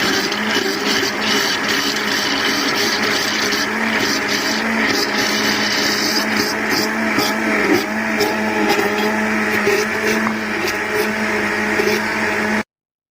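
An electric hand mixer whirs steadily, beating eggs, oil and water into a cake batter, a continuous close motor drone with faint rattling from the bowl, running unbroken without pause.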